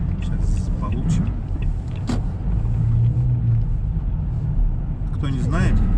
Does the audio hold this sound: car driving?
yes